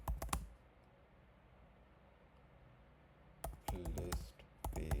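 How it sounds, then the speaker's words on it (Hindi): Typing on a computer keyboard into a free AI chat tool, heard as short bursts of close keystroke clicks at the start and again near the end, with quiet room tone between. "अभी मैं इसमें टाइप करता हूँ"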